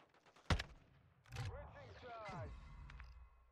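A single sharp gunshot rings out in a Modern Warfare 2 ranked match, followed by scattered game sounds and muffled chatter while voices talk over the action.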